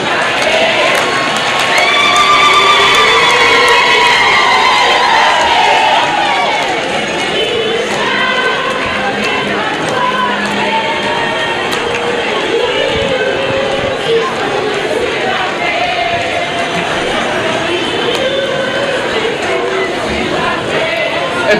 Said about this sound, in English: A big round of applause for Zimbabwe chapter.